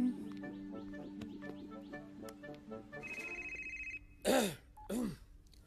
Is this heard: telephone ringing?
yes